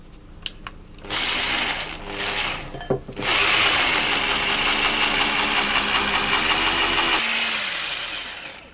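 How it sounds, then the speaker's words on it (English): An electric whisk whirs steadily through mascarpone mixed with vanilla extract, a loud continuous motorised buzz after a couple of brief starts, then easing off near the end. "I'm also going to whisk the mascarpone just a little bit with the vanilla extract in it"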